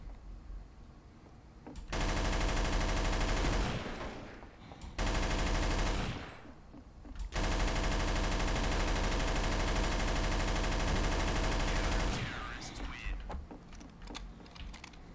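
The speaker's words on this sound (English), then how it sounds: "I think it's just fun to shoot the machine gun." A machine gun in a video game fires in three long, loud, sustained bursts of rapid shots separated by short pauses, with quieter clicking and game noise between and after the bursts.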